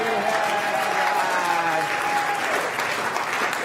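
An audience at a college governing board meeting claps in steady, moderately close applause that carries through without a break, with faint voices underneath.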